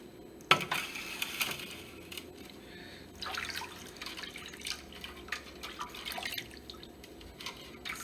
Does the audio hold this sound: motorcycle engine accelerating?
no